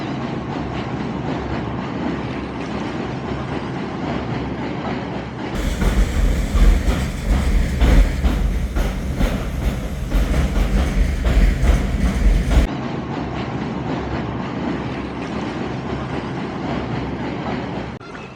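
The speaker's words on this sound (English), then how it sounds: "oh, train going by" A train passes on a nearby bridge over a Brooklyn creek, a loud rumbling, clattering surge of wheels on rails lasting several seconds before falling back to a quieter background rumble.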